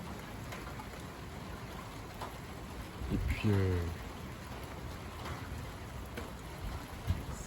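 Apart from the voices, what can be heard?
rain falling with southwest wind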